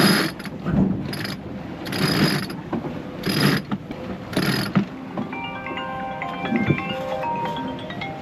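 A reef line on a sailboat being tightened, with rapid ratcheting winch clicks in bursts over steady wind and water noise.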